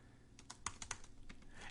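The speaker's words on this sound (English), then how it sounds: "You'll hear me typing it." Quiet, close typing on a computer keyboard: a short irregular burst of distinct key clicks, alone with no talk.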